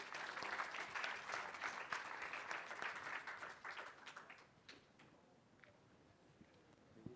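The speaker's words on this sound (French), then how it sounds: "Applaudissez surtout les panélistes." An audience applauds panelists at the close of a French roundtable talk on augmented talent and management: dense clapping, loud at first, then thinning and fading out over several seconds with a few scattered claps at the end.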